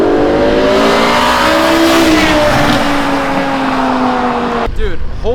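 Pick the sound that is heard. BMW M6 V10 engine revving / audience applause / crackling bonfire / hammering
BMW M6 V10 engine revving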